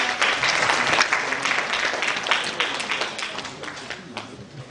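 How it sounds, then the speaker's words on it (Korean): An audience at a youth forum applauds a guest coming onstage, giving a loud, dense round of clapping that starts strong and gradually tapers off over several seconds. "박수 한번 부탁드립니다"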